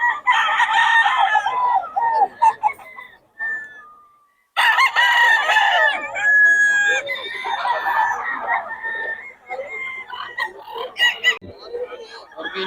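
A sweater-bloodline gamecock rooster at a Bocaue fowl sale crows loudly several times, close by, with short pauses between calls.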